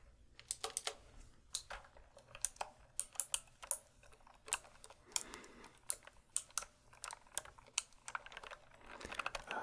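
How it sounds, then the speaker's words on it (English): Someone types steadily on a compact computer keyboard with no number pad, producing a quiet, close stream of irregular key clicks with a few brief pauses. "a keyboard without a number pad on it"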